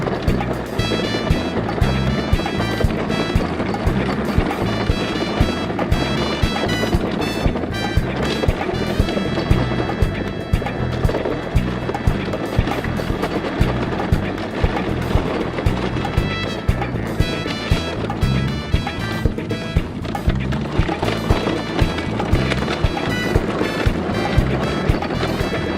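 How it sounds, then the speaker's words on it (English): A homemade electric go-kart fitted with a rocket boost drives along steadily, giving a continuous, loud broadband rumble and whir buffeted by wind noise across the whole stretch. "Now we go ahead and drive the go-kart for the rest of the day"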